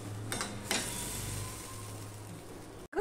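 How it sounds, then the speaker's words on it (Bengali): A pan of fish curry broth bubbling on the stove gives a soft, steady simmering hiss with a couple of brief utensil clinks near the start, close by and quiet, without any voices. "ঝোলটা ফুটে গেছে"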